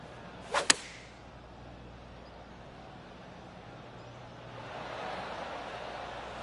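In the PGA Tour 2K25 golf video game, a club swings through and strikes the ball on a 120-yard shot: one quick swoosh and sharp crack early on, followed by a soft, faint ambient crowd and outdoor hum.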